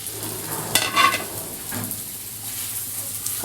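Dried fish fries with onion and tomato in oil while being stirred, a soft sizzle with a couple of louder scraping stirs early on, then a quieter steady hiss.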